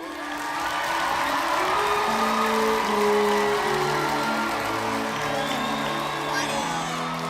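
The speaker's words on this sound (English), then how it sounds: "When I say the crowd loses it, I mean it. This is the loudest they are in like the entire film." A packed gym crowd at a championship basketball game erupts in loud sustained cheering, whooping and shouting as a dog runs onto the court, with a long roar, swelling music and scattered yells.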